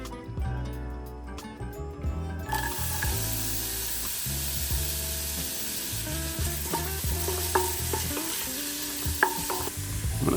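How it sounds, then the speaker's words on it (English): Onions sweat in olive oil in a pan, a steady sizzle under faint stirring clatter, close by, after a brief quieter start, with no talking. "I'm gonna start my soup with some olive oil and I'm gonna sweat these onions"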